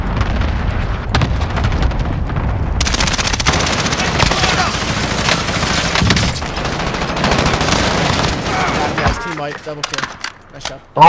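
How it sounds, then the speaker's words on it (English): Call of Duty gameplay sounds: rapid, dense bursts of automatic gunfire and heavy booms roll on almost nonstop, with players talking over the shooting. "I'm shooting them. On the roof."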